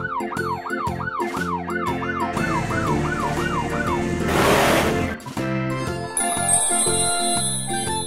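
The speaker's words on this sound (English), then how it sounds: "Black police car." A black toy police car's siren wails in a repeating rising-and-falling pattern about ten times, set against upbeat background music and a brief burst of noise, with no one talking.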